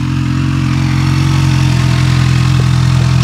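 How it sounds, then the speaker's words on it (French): A motorcycle engine runs close and loud, a steady deep rumble with a slight rise in pitch toward the end as it is revved gently. "Est-ce que tu peux nous faire rugir un petit peu le moteur?"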